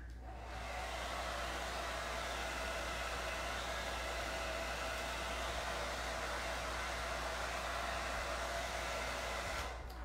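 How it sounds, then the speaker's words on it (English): A hair dryer blows on paper to dry glue, giving a steady, loud whoosh of rushing air that starts abruptly and holds evenly for about ten seconds before cutting off at the end. "So back to the dryer."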